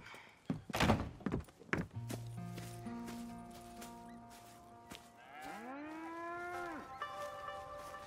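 Cattle in the Red Dead Redemption 2 game moo in several long, bellowing calls with falling and rising pitch, preceded by a few heavy thunks, fairly close and clear with no talk.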